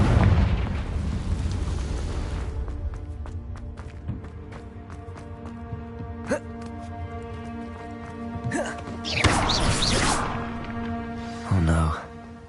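A Confringo blasting spell from the video game Hogwarts Legacy erupts in a heavy, booming explosion, followed by further bursts and rumbling impacts over a continuous game soundtrack, with a voice shouting briefly.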